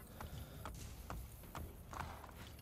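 Horse hooves clip-clop at a steady walking pace in the video game Assassin's Creed Brotherhood, a series of close, regular hoof strikes over continuous game ambience.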